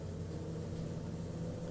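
A bus engine in the video game Everlasting Summer, heard as a steady low rumbling drone with a constant hum, close and continuous with no pauses or speech.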